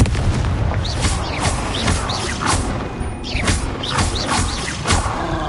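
Repeated booming spell blasts from the Hogwarts Legacy video game, several sharp bursts with whooshing sweeps in a dense, busy stretch of magical combat, loud throughout with no pauses.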